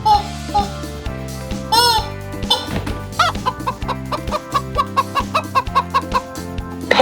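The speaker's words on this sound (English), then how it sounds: "chicken" Chicken clucking plays as a toy sound effect over bright background music, with a run of quick, evenly spaced clucks that grow steadier toward the end.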